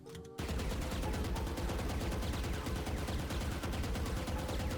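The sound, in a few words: Vandal rifle spray firing in video game Valorant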